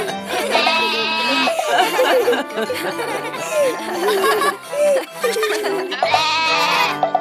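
Cartoon goat bleats mixed into a busy, music-like background, with several wavering cries repeating over the seven seconds.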